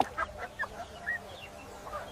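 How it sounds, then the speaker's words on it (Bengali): A chicken clucks in short, separate bursts, several times over about two seconds, fairly close and at modest volume above a low background hum. "হাল্ক মুরগিকে বাঁচালো।"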